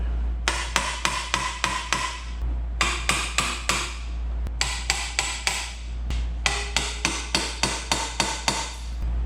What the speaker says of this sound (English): I'm going to put this brass drift right on the stem of the valve